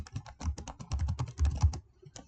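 Quick, light keystrokes on a computer keyboard patter in an uneven rhythm, close and fairly quiet, with a brief pause before a final few taps.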